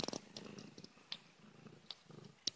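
A pet cat purrs softly and close up during playtime, a faint steady rumble broken by small clicks and rustles of handling.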